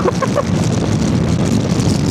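Loud steady wind roar buffeting the rider on a Zontes 368G motorcycle at speed, a continuous close rush that fills the whole moment.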